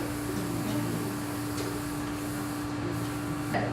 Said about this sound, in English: We're using glass Pyrex dish pan. Like, we're going to spray it with Pam.